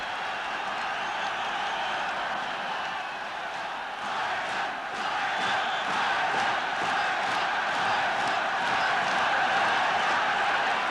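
Stadium crowd at a football match between Ireland and the Soviet Union, a broad sustained roar of cheering and chanting that swells steadily throughout, dense and continuous with no clear breaks.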